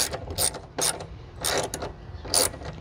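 A wrench ratchets in short bursts while tightening bolts on the fuel tank of a Kawasaki Versys 650 motorcycle, four crisp, close clicking pulls separated by brief pauses, with no talking.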